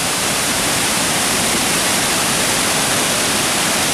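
Panther Creek waterfall, a loud, continuous broadband roar of falling water, close and steady throughout with no voices.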